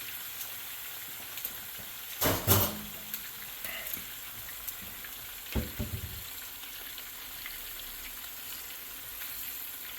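Queso frito cheese frying in oil, a quiet steady sizzle with a couple of louder bursts as pieces are moved or dropped in, with no talking.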